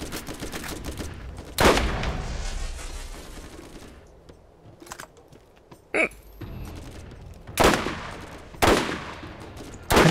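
Gunfire in the shooter Borderlands, a handful of sharp separate loud shots spaced a second or two apart, with quieter gameplay noise between them.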